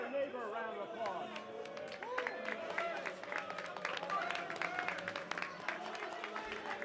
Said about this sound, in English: please give your neighbor a round of applause